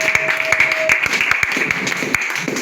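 A church congregation applauding at a French-language service, steady rapid clapping from many hands at close range, with a brief tonal ringing early on.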